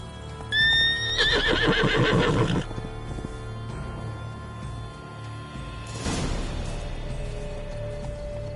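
A horse in The Witcher 3 gives a sharp, close whinny with clip-clopping hooves, then a second rougher snort or neigh a few seconds later, with faint ambient game sounds beneath.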